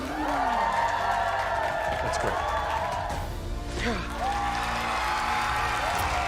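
Movie theater audience cheering, whooping and applauding in a dense crowd roar, with a brief lull near the middle before the noise swells again; someone speaks briefly over it.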